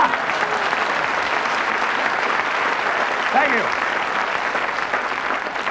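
An audience gives loud, sustained applause after a magician's egg in a bag trick, a dense continuous clatter of clapping with someone briefly speaking over it.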